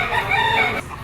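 Chickens at a Lipa poultry auction market, with a near rooster crowing and clucking in one short burst that cuts off abruptly.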